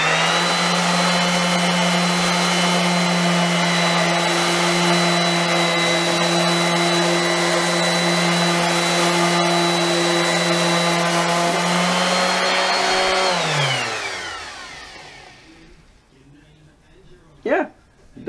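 A power sander works glue off a fabric stair runner, its steady, loud, high motor whine holding for about thirteen seconds before it spins down and trails off into quiet.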